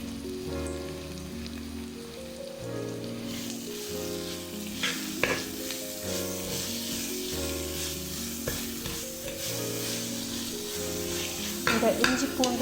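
Ginger garlic paste sizzles and fries in hot oil for a chicken curry, a steady crackling sizzle with stirring throughout and a louder burst of frying near the end.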